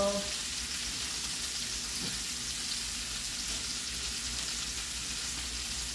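Chicken breast browns in a pan with a steady, close sizzle that holds for the full stretch, with a brief clink of a utensil near the middle.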